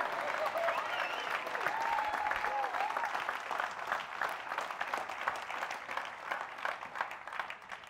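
A church congregation applauds during a special worship service, steady dense clapping sustained throughout with a faint crowd murmur underneath.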